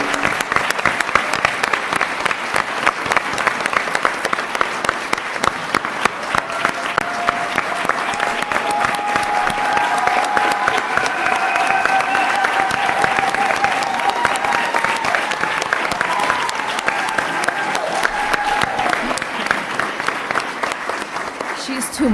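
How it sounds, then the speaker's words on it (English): Sustained, loud audience applause at a youth-led church Sunday service, continuing for over twenty seconds, with voices rising faintly underneath partway through. "please give her a round of applause"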